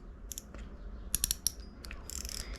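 A Fujin Sniper 1000 LRF spinning reel is turned with the drag adjusted, giving short bursts of close, crisp ratcheting clicks separated by brief pauses over a quiet background.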